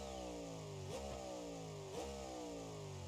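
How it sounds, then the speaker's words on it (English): A turbocharged engine in BeamNG.drive drones at steady pitch, with two quick revs blipping up and dropping back about a second apart. "Turbo sounds awesome."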